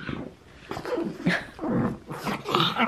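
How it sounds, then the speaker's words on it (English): Dog making a series of short whiny, snuffling vocal noises up close, in uneven bursts with brief pauses between them. "What are you doing, crazy dog?"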